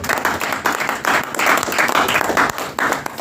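A church congregation at a French-language worship service applauds, a dense, steady clapping crowd with pulsing swells of loud, close hand claps continuing without pause.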